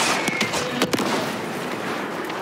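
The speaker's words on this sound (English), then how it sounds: "Copy, stand by for artillery." Artillery strike explosions from the Call of Duty Modern Warfare 3 campaign, heard as a few sharp blasts early on over a dense, continuous roar of battlefield noise, with no talking.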